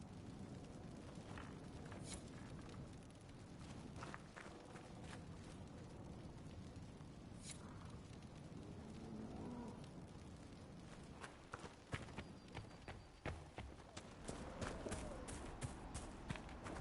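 Horse hooves clopping steadily across open ground in the video game Dragon Age: Inquisition, soft and continuous beneath ambient outdoor game noise, with sharper hoof strikes near the end.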